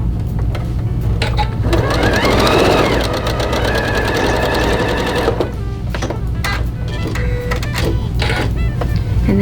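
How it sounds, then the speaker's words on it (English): A sewing machine stitches curved quilt petals in short bursts, a rapid mechanical chatter with a faint whine, close and fairly loud, pausing and restarting as the fabric is guided around. "And just gently sew around."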